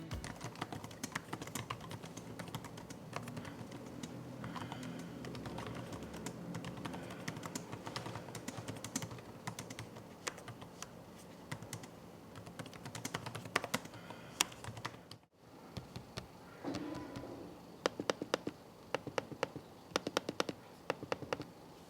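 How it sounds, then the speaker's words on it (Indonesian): Close, steady clicking of keys on an ASUS ExpertBook P3 PM3406CKA business laptop keyboard, a rapid uneven typing rhythm with a short pause partway, then sparser taps, quiet and without speech. "tampilkan feedback dari keyboard dan juga touchpad pada laptop ini"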